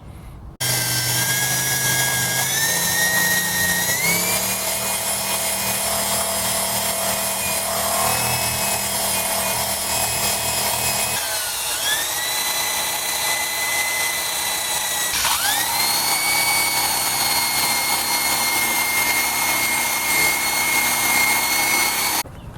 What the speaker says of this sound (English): Alright, so I've got everything ground down to the best as I could with this tool here.